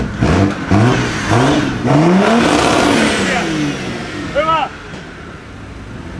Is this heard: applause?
no